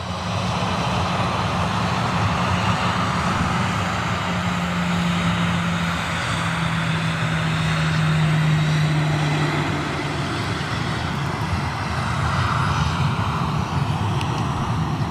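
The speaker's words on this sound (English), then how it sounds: "Looks like a TUI 730 taxiing out." Loud, continuous roar of a TUI Boeing 737 jet airliner taxiing, with a steady broadband engine rumble close by and slight swells in level throughout, heard alone without talking.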